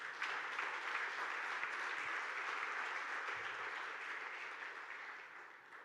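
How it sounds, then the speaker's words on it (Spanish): Church congregation applauding during a sermon, a continuous wash of many hands clapping that holds steady for several seconds and softens toward the end, fairly distant and with no voices over it. "Yo no sé si usted se anima a darle un aplauso al Señor"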